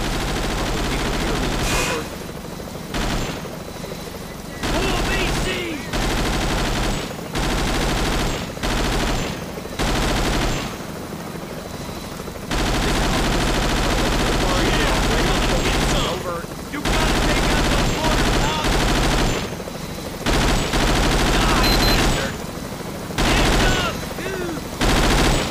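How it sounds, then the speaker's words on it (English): Bursts of automatic machine gun fire in a Vietcong war video game, rattling volleys that start and stop repeatedly over the whole stretch, loud and dense, with faint voices here and there. "Machine gunners."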